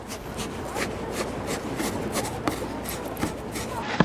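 Breadcrumb fishing bait being mixed by hand with bait powder and a little water, a steady close-up rubbing and squishing that runs throughout, with a few sharper crackles.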